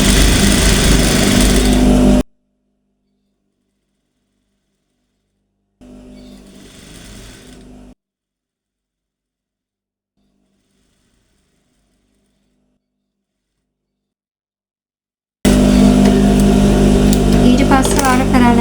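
A sewing machine stitching a blouse runs in loud close bursts at the start and end, with a shorter, quieter run in the middle and silent pauses between.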